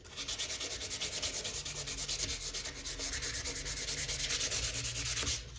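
Sandpaper rubs the logo off a guitar neck in quick, even back-and-forth strokes, a close, raspy scraping that repeats steadily with a brief pause near the end, with no voices.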